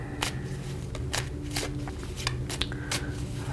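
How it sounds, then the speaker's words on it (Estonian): Tarot cards being shuffled by hand in a quiet room, several distinct riffling bursts, close and fairly soft, with no talk. "Segan siis need kaardid ära."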